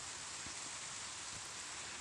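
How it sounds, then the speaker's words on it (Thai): Rain falls outdoors as a continuous, even hiss of dense drops with no pauses and no voices. "ฝนตกนะครับ"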